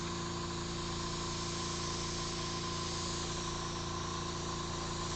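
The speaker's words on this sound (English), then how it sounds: "I like airbrushing, I like the softness, and I like the speed." An airbrush sprays paint onto a Ferrari 275 GTB rendering, a steady, even hiss running unbroken at close range over a low constant hum, with no voices.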